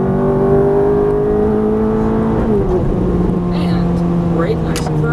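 Ferrari F430 F1 engine drones loudly on a racetrack at Exotics Racing Los Angeles, pitch climbing then dropping at an upshift midway, with an instructor's voice talking over it.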